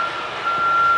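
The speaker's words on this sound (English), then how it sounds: "The thing not only beeps when it backs up, it beeps when it moves side to side and up and down." A loud, steady high-pitched electronic beep from a lift's reversing alarm at a hospital construction site at 6:30am, running continuously over low machinery rumble.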